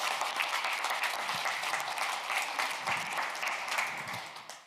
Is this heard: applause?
yes